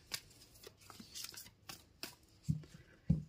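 Tarot cards shuffled by hand in a short run of soft, crisp riffles and taps, with a couple of louder low thumps near the end as the deck is squared, close up and with no talking.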